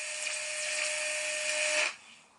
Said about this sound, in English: I think all these heterodynes must be harmonics from my solar charger, because they're spaced evenly across the band.